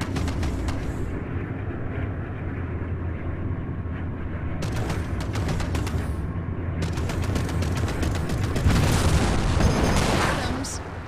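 Plasma cannon fire in the space combat game Strike Suit Zero: Director's Cut, a dense run of booming, crackling shots layered over a steady engine rumble and score, growing louder and busier toward the end.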